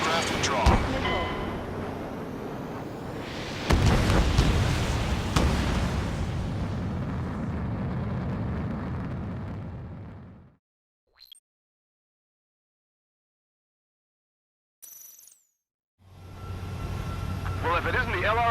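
Missile explosions in the jet combat game Ace Combat 7, heard as loud, dense booming and roaring blasts under radio chatter, followed by a few seconds of near silence before the rumble returns.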